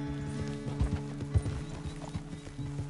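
Horse hooves clip-clop steadily at a walking pace in the Red Dead Redemption 2 video game, the thuds clear and close over a low game ambience, with no talking.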